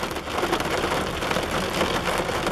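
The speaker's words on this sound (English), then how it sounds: "It's raining out" Steady rain falls outdoors on a morning of birdwatching, a dense even patter with no break, fairly loud and close, with no talking over it.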